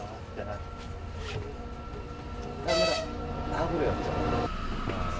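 A transcontinental passenger train in Mongolia rumbles along steadily from inside a carriage, with rattling, a brief horn-like blare midway, and people talking in the background.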